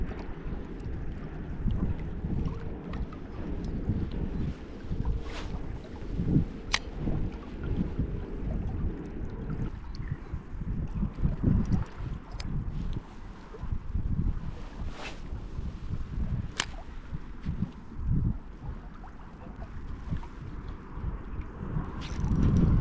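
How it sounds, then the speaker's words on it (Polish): Strong, gusty wind buffets the microphone outdoors during rainbow trout fishing, a continuous loud roar with scattered knocks and clicks and no speech. "no warunki są ciężkie, no straszliwie wieje i zimno"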